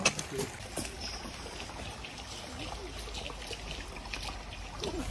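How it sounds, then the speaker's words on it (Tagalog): Soft, steady trickle of flowing water with a gentle hiss, faint and continuous, with a few light splashes and distant murmurs. "Yung tunog ng water is so relaxing."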